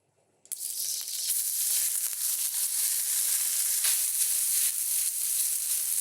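Noodles drop into hot oil in a pan and a loud hiss bursts in suddenly after a brief silence, then holds as a steady, close sizzle with no talking.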